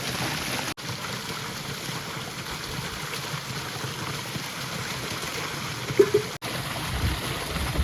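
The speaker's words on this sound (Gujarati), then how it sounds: "અહીંયા સુધી પાઇપલાઇન નાખેલી છે અને અહીંથી જાય છે ખેતરમાં પાણી. તો જો આ રીતનું પાણી આવે છે." Water from a well pump pouring out of a farm pipeline into a field, a steady rushing gush heard nearby, continuous and with no voices.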